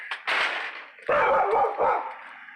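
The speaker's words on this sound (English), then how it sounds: "My dog started barking." A dog barks in a few sharp, close bursts, with a quick yip at the start and a run of rapid barks after.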